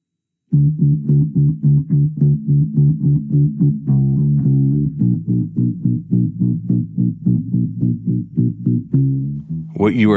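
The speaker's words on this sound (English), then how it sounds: "It is a very simple bass track," Simple bass line from a popular 1986 Christmas song, a steady run of short, punchy low notes repeating in an even rhythm for about ten seconds, close and alone.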